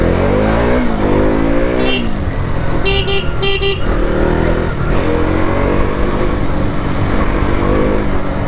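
A KTM Duke 200 BS4 motorcycle is ridden hard at full power, its engine droning loud and close as it climbs through the revs, with a couple of short horn toots from passing traffic midway.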